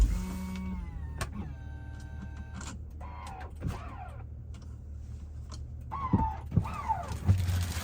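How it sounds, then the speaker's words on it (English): Electric motors whine in rising and falling sweeps as the power third-row seats of a 2024 GMC Yukon Denali fold, with soft clunks and clicks, close by over a low engine hum. "You can control the third row with these buttons right here, so you can move those up or down"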